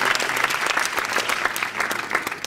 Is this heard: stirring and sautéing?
no